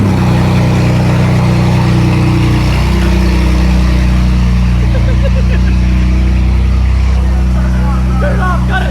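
A BMW M4 with aftermarket midpipes and open dumps starts up loud, its engine droning steadily close by at a deep, heavy pitch, with people talking over it.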